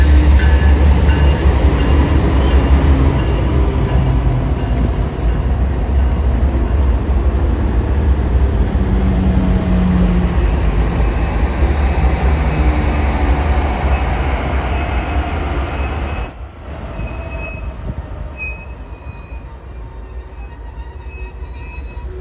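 A rare heritage-unit freight train rolls close by, its heavy rumble of railcars loud and continuous with wheels squealing sharply on the rails, the roar dropping away near the end as the squeal persists.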